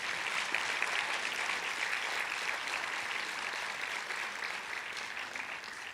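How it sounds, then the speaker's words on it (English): Sustained audience applause at an international peace lecture, a broad, even roar of many hands clapping that holds steady and tapers only slightly toward the end, with no voices over it. "A round of applause again, ladies and gentlemen."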